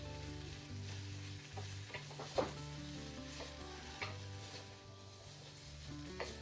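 Dry rice stir-frying with sesame oil in a wok, cooked in an art studio: a steady close sizzle with soft scraping and stirring strokes, no talk.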